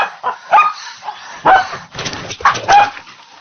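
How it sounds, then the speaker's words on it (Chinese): A dog barks close by, several sharp barks in quick succession with short pauses between them. "¡Coge al perro y que pare de ladrar!"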